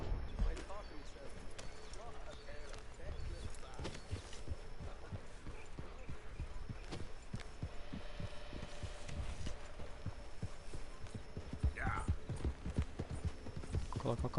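Horse galloping in Red Dead Redemption II, a steady run of quick hoof clip-clops throughout, moderately close, with faint game ambience underneath and a person talking over it.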